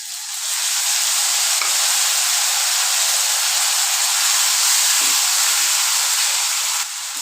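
Ginger, garlic and green chili paste sautés with tomato and salt in a pan, a steady loud sizzle and hiss lasting several seconds with faint stirring scrapes, no voices, then cutting off abruptly.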